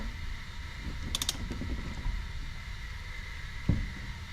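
Quiet ratcheting clicks of a torque wrench tightening bolts on a Can-Am Maverick Trail clutch, a short quick run of clicks followed by faint mechanical handling and a single soft knock.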